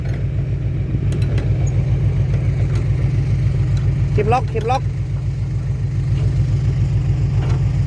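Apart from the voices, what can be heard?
tractor engine running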